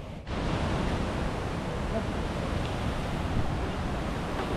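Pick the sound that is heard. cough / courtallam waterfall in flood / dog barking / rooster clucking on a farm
courtallam waterfall in flood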